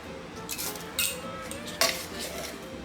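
A metal measuring spoon scrapes and clicks against the built-in leveler of an ingredient can in a kitchen, giving a few sharp taps and scrapes over a quiet background.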